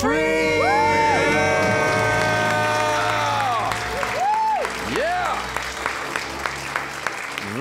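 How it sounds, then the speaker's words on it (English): A crowd in an auditorium shouts and screams in celebration after paying off debt, with loud whoops and cheering that fade into rhythmic clapping and applause. "Let's hear a debt-free scream. 3, 2, 1. We are debt-free."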